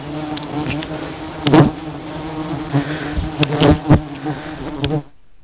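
A swarm of giant honeybees buzzes loudly and continuously high in a tall tree during a honey harvest, a dense droning hum with sharp bursts and crackles before it cuts off abruptly.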